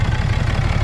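A 2018 6.7-litre Cummins diesel idles steadily at close range after a fuel filter change, a continuous low rumble with an even pulsing beat and no voices.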